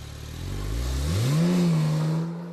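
A Porsche 911 Turbo convertible pulls away with a rising engine rev that swells to a loud, steady drone, then holds and begins to fade as the car moves off, with no voices.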